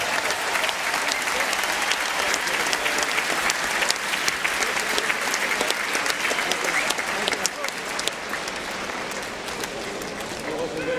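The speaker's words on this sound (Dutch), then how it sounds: "geef ze nog even een overdovend applaus" A large crowd gives loud, sustained applause at a World Music Contest awards ceremony for the drum band of Harmonie Sint-Cecilia Simpelveld. The dense clapping continues for about eleven seconds, with faint voices underneath.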